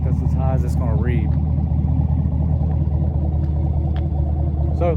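Chevrolet Camaro SS with an AWE Track axle-back exhaust, a loud, deep V8 rumble held steady up close, with a person talking over it briefly at the start.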